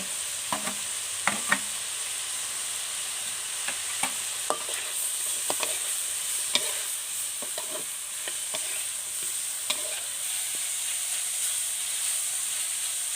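Pork belly and young chillies stir-fry in a hot wok with steady sizzling hiss, broken by scattered scrapes and clinks of the spatula stirring, close and continuous with no voices.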